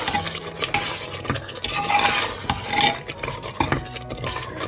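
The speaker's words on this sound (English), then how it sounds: "Keep stirring in between, and we'll cook it for another 15 to 17 minutes." Mutton korma being stirred in a pot over a medium flame, a utensil scraping and clinking against the metal in steady irregular strokes over a soft background sizzle, close and moderately loud, no talking.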